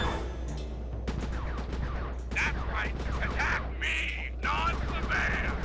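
Gunfire sounds while shooting at enemies in the Sly 3: Honor Among Thieves video game, as bursts of shots among game effects and character voices, with a steady hum underneath.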